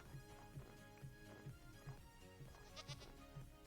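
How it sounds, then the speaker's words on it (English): Minecraft goat bleats as a soft, repeated low call over steady background game music, with a brief brighter bleat near the end, no talking. "That's a goat."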